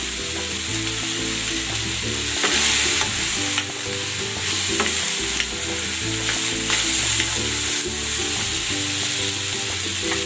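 Sliced bitter gourd (ampalaya) sizzles steadily in a hot pan while being stirred, with continuous loud frying hiss and repeated scraping strokes of the utensil.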